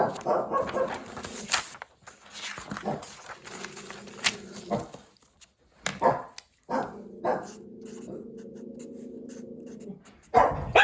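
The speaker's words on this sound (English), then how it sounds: "Excuse the dog." A house dog barks in bursts of loud, near barks and howling yelps, with pauses between flurries and a sustained whining bark toward the end, no talk over it.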